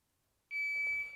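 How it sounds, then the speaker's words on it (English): A shot timer gives a single sharp, steady electronic beep at a two-second par time during dry-fire pistol practice, lasting about half a second after silence, followed by faint handling noise. "the 2 second par time beeped"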